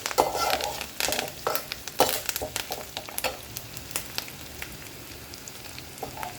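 Onions sautéing in a pan for a sardine fish curry give a steady sizzle, with sharp bursts of stirring and scraping that are loud at first and grow quieter and sparser.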